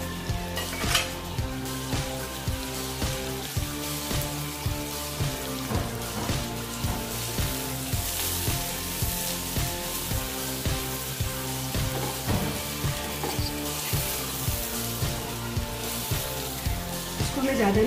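Two chopped medium onions frying in a pan for a quick paneer bhurji, a steady close sizzle with soft crackle running throughout under background music.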